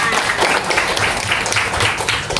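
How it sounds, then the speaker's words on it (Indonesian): Applause from a group of young schoolchildren in a classroom quiz game, steady loud clapping with some cheering voices mixed in, filling the whole short stretch. "tepuk tangan dulu untuk Raka"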